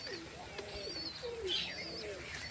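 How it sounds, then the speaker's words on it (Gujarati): Pet pigeons kept as a pair coo softly at a distance, scattered throaty calls mixed with faint higher chirps of other birds over a quiet, airy background. "આપણા કબૂતર છે અહીંયા"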